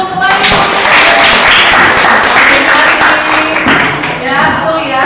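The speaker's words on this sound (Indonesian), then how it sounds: "Oke, tepuk tangan dulu untuk Bayu." Classroom of students clapping for a classmate, a fairly loud burst of mixed hand claps and thumping taps that continues for several seconds, close by and a bit uneven.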